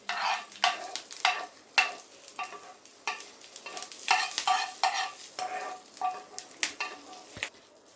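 A spoon stirs fried tempering dals into radish chutney in a bowl, producing a rhythmic series of wet scraping strokes, each about half a second long, with a faint crackle of frying underneath.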